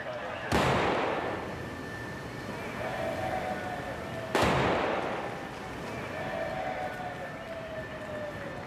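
Two sharp, loud reports about four seconds apart as shot lines are fired between an aircraft carrier and a ship alongside during underway refueling at sea, each followed by a ringing tail over steady wind, engine and sea noise.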